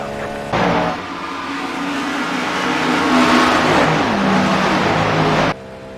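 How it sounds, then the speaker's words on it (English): A Cadillac LMdH prototype race car in iRacing roars at sustained high revs, loud and close, the engine note climbing and holding with brief gear-change dips before cutting off abruptly near the end. "I'm just going to give you just a couple of seconds to listen to how good this car sounds"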